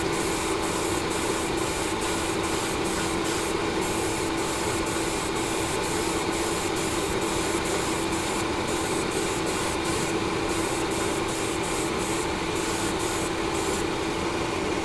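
Vallejo grey surface primer is sprayed from an airbrush in a steady continuous hiss over a constant motor hum, punctuated by regular short pulses throughout, with no talk.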